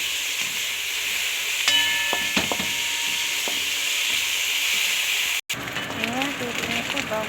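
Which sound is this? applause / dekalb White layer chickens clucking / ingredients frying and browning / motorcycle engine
ingredients frying and browning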